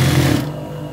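A Juki sewing machine runs briefly at close range, giving a dense mechanical whir with a low hum that cuts off partway through, leaving a softer residual drone.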